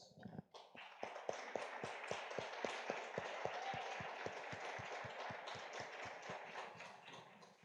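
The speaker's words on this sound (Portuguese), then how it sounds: "E nós vamos dar uma salva de palmas a elas" A congregation at a Mother's Day church service claps in a steady, unified rhythm, sharp regular beats at roughly three per second, fairly faint and set back, continuing evenly for several seconds without talk.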